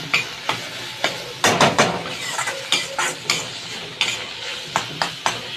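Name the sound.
spices frying in a pan with turmeric, chili, salt, coriander, tomato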